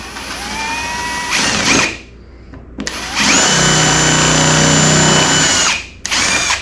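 Power drill boring through a baby alligator taxidermy mount, a loud, steady whine in three long bursts with brief pauses, the middle run the longest and strongest.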